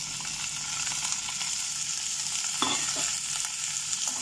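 Onion, tomato and green chili cooking in a kadai, giving a steady close sizzle with a couple of soft stirring scrapes partway through, alone and without talk.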